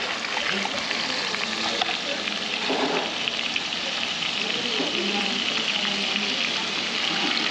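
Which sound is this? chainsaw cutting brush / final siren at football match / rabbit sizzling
rabbit sizzling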